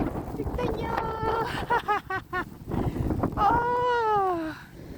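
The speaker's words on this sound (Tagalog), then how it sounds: "Grabe ang hangin oh." Strong wind gusting through a night snowstorm, a continuous rushing roar under excited voices calling out close by.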